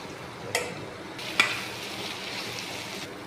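Rui fish curry with freshly added tomato stirred in a pan, a steady close sizzle of frying with two sharp scrapes of the spoon against the pan, no talking.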